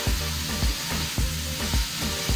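Sizzling and scraping as cabbage is stirred into chicken fried rice in a hot pan, with rhythmic stirring strokes repeating about every half second over a steady close frying hiss, no talking.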